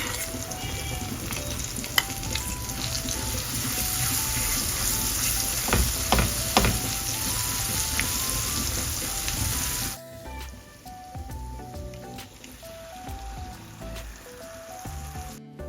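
Masala paste and water going into a hot pan for a fish curry, with steady loud sizzling and stirring that drops to a quieter simmer partway through; no talking.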